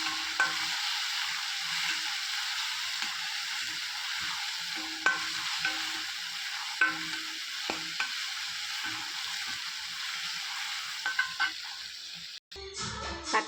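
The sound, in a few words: sautéing tomato curry in a pan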